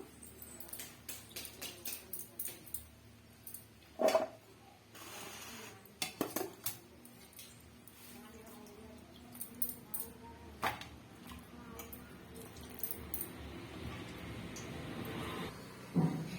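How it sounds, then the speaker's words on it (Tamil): Soaked bitter gourd pieces are moved into a mixing bowl, giving quiet, scattered clinks and light scrapes of utensils against the bowl, with short gaps between them. "இப்போ வேற ஒரு மிக்சிங் பவுல்ல சேர்த்துக்கலாம்"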